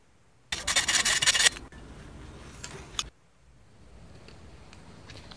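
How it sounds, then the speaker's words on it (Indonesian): Sandpaper rubbing the cut ends of a 10 cm length of aluminium pipe salvaged from an old TV antenna, a loud close rasping burst for about a second, then quieter scraping strokes that fade into light friction. "dihaluskan ujung-ujungnya dengan menggunakan amplas agar lebih halus"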